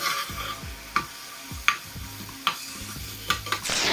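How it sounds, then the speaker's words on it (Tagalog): Chicken frying in a pan for adobo, a steady sizzle broken by a spoon scraping and clacking against the pan at a regular stirring rhythm, close and without talk. "I-mix lang natin siya until mugawas ang fats sa ato ang chicken."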